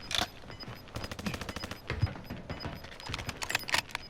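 Gunfire in a video-game firefight, including sniper rifle shots, comes as a dense stream of sharp cracks and bursts with a few heavier single blasts.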